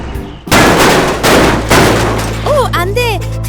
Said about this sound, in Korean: 오, 안돼! 트럭이 경사로에서 뒤집혀 버렸어요.